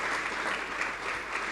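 An audience at the xTEF conference, a European AI and robotics event, breaks into a round of applause, dense and steady hand clapping filling the room.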